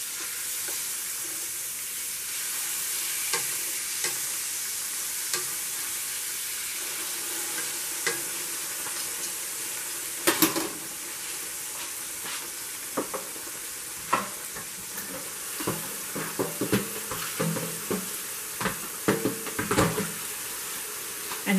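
Liver browning in a frying pan with gravy, a steady, close sizzle and bubbling that carries throughout, with scattered clinks and scrapes of a utensil stirring and turning the meat, growing busier toward the end.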